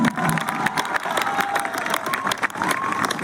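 Sustained applause and cheering from a large audience at a Hindi poetry gathering, the kavi sammelan at Shoolini, a dense continuous roar of clapping with scattered shouts throughout.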